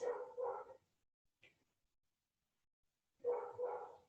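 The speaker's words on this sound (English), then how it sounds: "Dog barking." A dog gives two paired barks, pauses in near silence apart from a faint tick, then barks twice more, sharp but slightly distant and fairly quiet.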